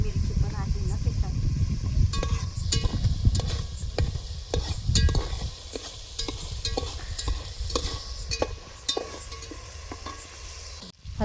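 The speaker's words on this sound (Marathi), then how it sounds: "आता ही मसाला मगाशी आपण जो केलता तो टाकला. जरा भाजून देते." Spice masala with green chilli roasting in a pan for biryani, stirred with steady scraping and clinks over a continuous close sizzle, the frying loud at first and easing after about five seconds.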